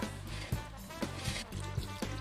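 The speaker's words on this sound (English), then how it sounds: "Pour the water into your mix." Water pours and trickles into a bowl of flour and butter mixed to a coarse texture, a soft close liquid splashing with light periodic knocks, no talking.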